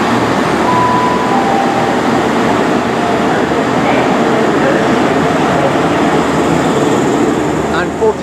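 A Great Western Railway HST runs through Reading with power car 43175 at the rear, producing a loud, steady rumble of engine and wheels close by, with a brief tone early on.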